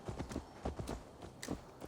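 A horse's hooves clip-clop in a steady, quick walking rhythm in Assassin's Creed Valhalla, faint but clear with no talking.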